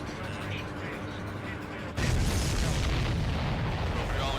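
A supply ship explodes in the Ace Combat 7 flight game with a sudden loud boom, after which a dense, sustained rumbling roar carries on to the end over a steady game-audio background.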